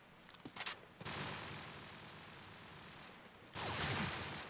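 Gunfire in the shooter game Call of Duty 4: a few quick shots, then a sustained roar of firing, followed by another loud burst, heard at a distance and fairly faint.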